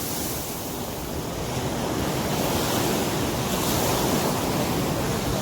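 Steady roar of sea surf breaking continuously on Varkala Beach, loud and close, with wind noise over the microphone and no voices.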